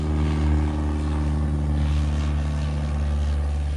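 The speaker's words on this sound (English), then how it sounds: "Oh, aeroplane." Propeller airplane flying overhead near an airport, a loud, steady droning engine hum with strong low tones, filling the whole stretch without talk.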